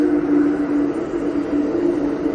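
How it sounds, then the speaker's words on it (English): A real train rolls through downtown Aurora, a steady low rumble that holds at the same level from start to finish, heard alone with no talking. "That's an actual real train on this episode."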